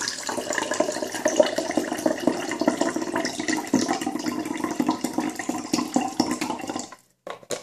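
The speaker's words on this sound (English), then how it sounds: "So I'm just going to put some coconut water into my cup." Coconut water pours into a cup in a continuous splashing stream for about seven seconds, then stops abruptly.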